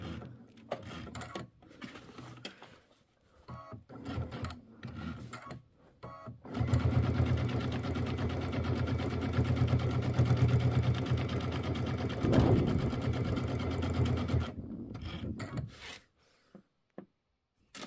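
A sewing machine stitches a Kimberbell mini quilt, starting with short stop-start bursts of stitching, then running steadily and loudly for several seconds before slowing into a few final stitches and stopping.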